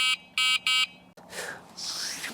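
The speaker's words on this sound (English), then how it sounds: "It also has a horn." Fat tire e-bike horn gives three short, loud electronic beeps in quick succession, followed by rustling outdoor noise.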